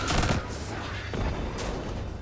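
Loud, booming gunfire in the video game Destiny 2, with heavy shotgun-like blasts and crackling impacts landing in quick clusters, close and without speech.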